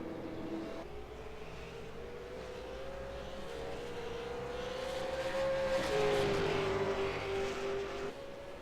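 V8 Supercar in the iRacing video game running down Conrod Straight at Mount Panorama, a steady whining engine note that slowly climbs in pitch, held at moderate loudness throughout.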